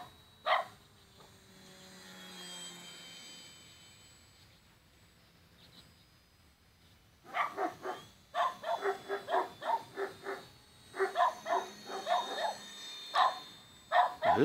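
Dogs bark in a quick string of sharp, repeated barks after a stretch of quiet background hum, fairly close and moderately loud, with no talking.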